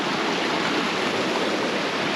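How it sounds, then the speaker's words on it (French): A small waterfall cascade along a trail on the way to Vinicunca in the Andes, a steady, close rushing splash of water with no other sounds. "on a le droit à notre belle petite cascade"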